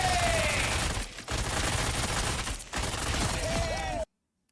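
Star-Lord's ultimate in the Marvel Rivals video game unleashes sustained rapid gunfire, a loud dense barrage with two short breaks before it cuts off abruptly.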